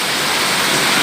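Strong wind roars steadily through a storm in a town in Brazil's Northeast, with rain running off roof tiles; a loud, continuous broadband rush with no pauses and no voices.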